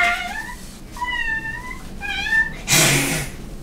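A young girl playing a lollipop board game makes a few high meowing cat imitations followed by a short breathy hiss.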